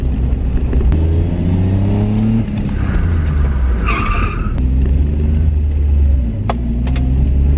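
A car drifts with the handbrake on a country road, its engine revving loudly and steadily while tyres screech in a sustained skid, with sharp squeals around the middle and short clicks near the end.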